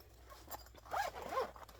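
A zipper on a bag with a plastic front pocket is drawn open in two quick rasping pulls, close and fairly quiet, with no talk during the sound.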